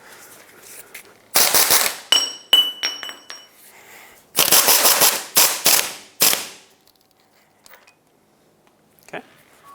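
A 17mm socket works loose a severely rusted front shock absorber nut on a 2009-2014 Ford F-150, in two loud clusters of sharp, rattling metallic bursts separated by a quieter pause, with a faint click near the end.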